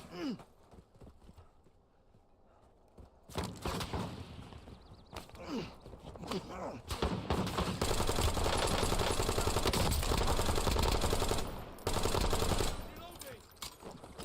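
Gunfire in the video game Warzone comes as loud, dense bursts of rapid shots, sustained for several seconds with brief pauses, over game ambience and some faint talk.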